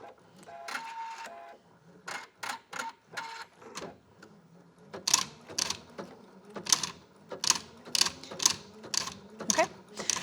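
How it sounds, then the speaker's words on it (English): A sewing machine with a ribbon embroidery attachment stitching pre-wound satin ribbon, giving a steady rhythmic run of mechanical clicks and whirring bursts, fairly close, with someone talking at points. "it's kind of spinning as it's stitching, so don't be alarmed by that little sound that you're hearing"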